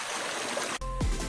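A loud stream rushes through a valley as a steady, dense wash of water noise, then cuts off abruptly partway through to a different, quieter sound.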